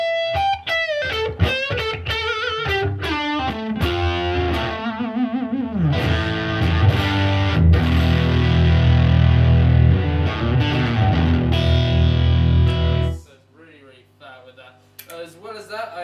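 An electric guitar played through effects pedals, running from plucked single notes into thick, fuzzy, distorted sustained chords that cut off sharply near the end.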